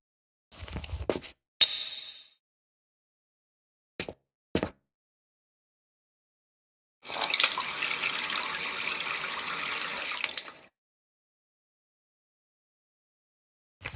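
Water sloshing and running as a freshly developed photograph is rinsed in the video game Who Is Abby, with a few short knocks and splashes and then a steady gush of about three seconds, no talking.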